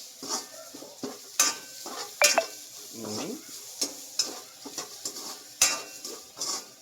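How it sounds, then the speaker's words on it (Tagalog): Chopped onion added to a hot pan of ginger and garlic while cooking laing, with a spoon clattering and scraping against the pan in irregular strokes over a soft sizzle, close and moderately loud. "Lagyan na natin yung ating sibuyas."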